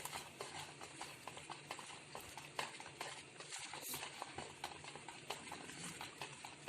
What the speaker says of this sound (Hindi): तो इस तरह इससे हम हैंड बीटर से बीट कर लेते हैं